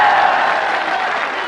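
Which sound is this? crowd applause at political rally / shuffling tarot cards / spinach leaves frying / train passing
crowd applause at political rally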